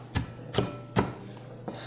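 A knife chops garlic on a board for beef stew: three crisp, evenly spaced chops close by, then a softer fourth after a short pause, with no talk.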